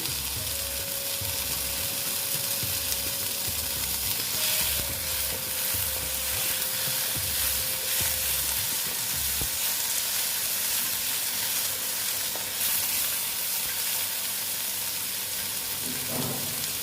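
Chopped tomato fries with okra in a pan, giving an even, continuous hiss of sizzling oil with occasional soft stirring scrapes throughout.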